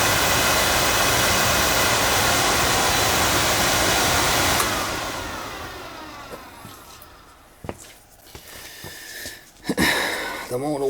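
An oil boiler's burner motor, freed after being stuck, runs with a steady, loud, airy whirring roar, then winds down and goes quiet, leaving scattered clicks and handling noises.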